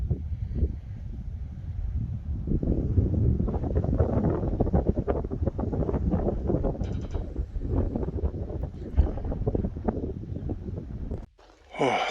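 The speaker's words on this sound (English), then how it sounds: "It's getting windy up here." Strong gusty wind buffets the microphone in loud, rumbling waves atop a fire lookout tower in Beltrami Island State Forest, with faint breathing mixed in and a brief lull near the end.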